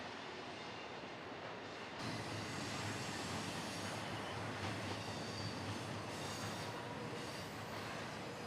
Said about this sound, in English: In a few minutes, the train came back and passed by those trees seen in the distance on the right.